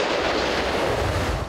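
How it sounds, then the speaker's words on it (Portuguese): Gunfire aimed at civil police officers as they climb a hill during a raid on a favela amid a war between rival gangs: a dense, continuous loud roar of shots and rumbling blasts with no clear gaps, heard without talk. "Os policiais civis foram recebidos a tiros na subida do morro."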